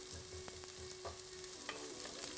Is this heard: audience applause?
no